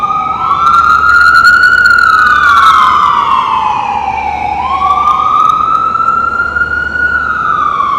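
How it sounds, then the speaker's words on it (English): A loud, close emergency siren in Manhattan wails in long rising and falling sweeps over a low steady traffic rumble, with no pauses. "Lots of hospitals over here, so lots of ambulances and stuff."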